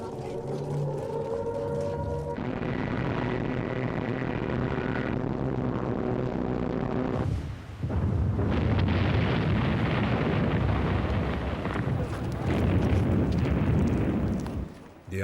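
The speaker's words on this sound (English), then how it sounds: "In early 1941, the Luftwaffe bombed Malta." Bombs burst during a 1941 Luftwaffe air raid on Malta in the Second World War, heard as a loud, sustained roaring rumble broken by sudden heavy blasts that shift in texture throughout.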